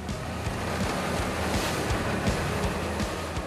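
Rough sea waves break around a fishing boat heading out in bad weather, with a continuous roar of surf and wind and a low rumbling throb running underneath throughout.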